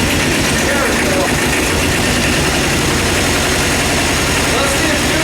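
Tractor engine idling in neutral, a loud, continuous low rumble with a steady knocking pulse throughout, close by and unbroken.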